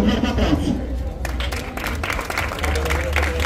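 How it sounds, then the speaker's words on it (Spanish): A crowd at a floral offering to the Virgen del Mar breaks into a strong round of applause, dense clapping that swells and continues under a voice on a loudspeaker. "La comandante de Irene Santos, un fuerte aplauso."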